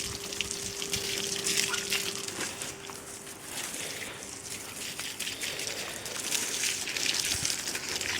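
Water gushes and splashes steadily out of an old plumbing line being flushed through before a fridge water filter, a continuous rushing wash with a faint tonal hum underneath and no talking.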